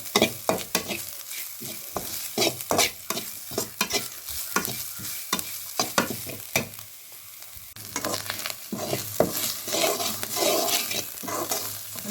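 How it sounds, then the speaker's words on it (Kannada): Grated coconut frying in a pan for banana masala dosa, with a steady sizzle broken by repeated scraping stirs of a spatula, close and fairly loud with no talking. "ಕಾಯಿ ತುರಿನ ಚೆನ್ನಾಗಿ ಹುರಿಬೇಕು ಹುರಿದು ಒಂಥರ ಕೆಂಪು ಬಣ್ಣ ಬರುವವರೆಗೆ ಹುರಿಬೇಕು"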